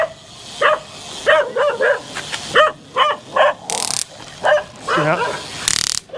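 Dogs bark repeatedly outdoors in Thailand, a quick run of loud, close barks coming in short bursts over several seconds.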